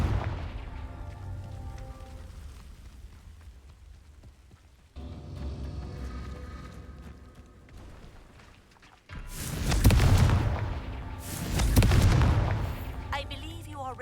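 Confringo blasting spell in Hogwarts Legacy, two loud bursting explosions in the second half, each swelling and fading over a second or two, after a quieter stretch of rumbling background ambience.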